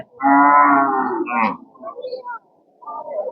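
A cow lets out one loud, close moo lasting over a second, followed by softer lowing grunts at the Amraid cattle market in Kapasia, Gazipur, Bangladesh.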